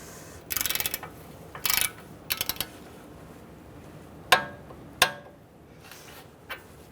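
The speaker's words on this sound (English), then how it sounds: "let's tighten up this ball joint nut to 59 foot-pounds" Ratchet wrench tightening a ball joint nut on a 2000-2007 Ford Taurus front suspension, heard as several short bursts of rapid clicking followed by a couple of sharper metallic knocks, close and moderately loud with no talking.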